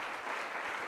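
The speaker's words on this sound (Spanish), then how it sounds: "Queremos darle un aplauso fuerte al Señor." Church congregation applauding together, a steady dense wash of clapping filling the space with no voices over it.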